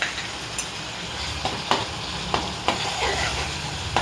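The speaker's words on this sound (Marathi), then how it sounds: "त्याच्यात आपण हे कांदा खोबऱ्याचं वाटण घालायचं जेणेकरून तेल सुटेपर्यंत ह्याला आपण परतून घ्यायचं आहे" Onion-coconut paste sautés in oil with tomatoes for a spicy chicken rassa, a steady close sizzle punctuated by several sharp spoon scrapes and knocks against the pan.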